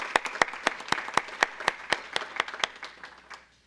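A school board meeting audience gives a brief round of applause, sparse distinct claps in a fairly regular rhythm that thin out and fade by the end.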